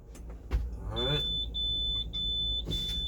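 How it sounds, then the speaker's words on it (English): A truck's low air pressure warning buzzer sounds during an in-cab air brake test, a steady high electronic tone that runs for about two seconds with brief breaks, alongside a short rising mechanical whine and some cab noise. "That is my low air warning and buzzer indicator, letting me know it's working properly."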